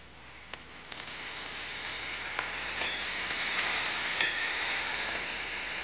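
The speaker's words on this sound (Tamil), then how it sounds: "இப்போ உருளைக்கிழங்கு கொஞ்சம் எண்ணெயில வேகணும்." Diced potatoes fry in oil in a pan, giving a steady close sizzling hiss with scattered small pops and ticks that build slightly over a few seconds.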